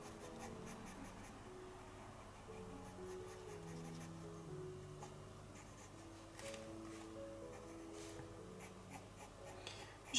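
A coloured pencil shades on paper with soft, continuous, quiet scratching strokes, laid lightly in even layers. Faint background music sits beneath it.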